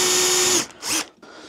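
Power drill boring a pilot hole through a hinge jig, a high steady whine for over half a second, then a brief revving burst and a short final spin-up, close and loud.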